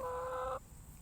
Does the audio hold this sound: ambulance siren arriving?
no